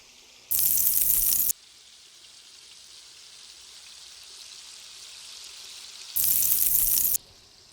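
Chorizo frying in a pan: two loud, bright sizzling bursts about five seconds apart, with a quieter steady crackle of cooking meat between them.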